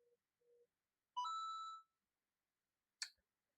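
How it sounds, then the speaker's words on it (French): A short phone notification plays: two soft low beeps, then a brighter sustained chime of stacked tones lasting about half a second, followed later by a sharp click, all in otherwise silent surroundings. "Désolé pour cette petite notification."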